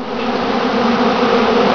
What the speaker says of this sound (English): have a look at the bees here